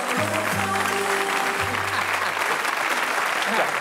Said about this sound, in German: Hey, hast du den Applaus gehört?